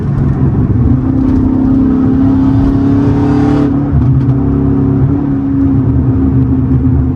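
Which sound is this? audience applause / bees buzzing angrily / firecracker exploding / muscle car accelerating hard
muscle car accelerating hard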